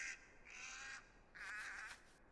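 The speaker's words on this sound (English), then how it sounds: "Bird scream." A bird gives two loud, harsh, crow-like caws, one short scream followed by a longer one, heard clearly against faint background hiss.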